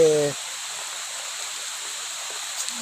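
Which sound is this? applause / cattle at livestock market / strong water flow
strong water flow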